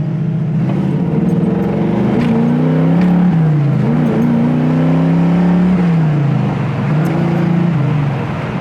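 A 1970 Camaro Z28 engine pulls hard under acceleration while driving, loud and close, its pitch climbing steadily through the gears with a brief dip at a shift, continuous and alone without talk.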